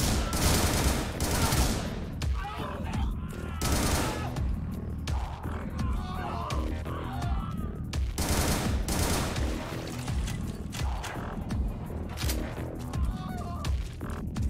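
Dense, sustained gunfire and repeated bursts of shots roar through a firefight in the video game Butcher, loud and continuous with only brief dips in intensity.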